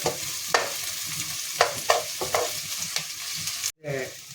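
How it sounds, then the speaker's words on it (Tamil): Onions and green chillies sauté in a pan while a spoon stirs them, with a steady low sizzle and several sharp scraping strokes at irregular intervals. No one speaks. "வெங்காயமும் பச்சை மிளகும் வதங்கிட்டு"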